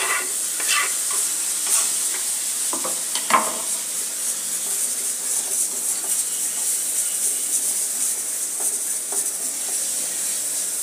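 Chopped tomato and curry leaves sizzle steadily in a pan while being stirred, a continuous frying hiss with scattered scraping strokes of the spoon, close and clear, no talking.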